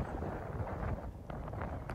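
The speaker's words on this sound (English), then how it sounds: "But when the wind's in your face," Steady low rumble of wind buffeting a microphone on a golf course, broadband and continuous throughout, with a few brief gusty flutters near the end.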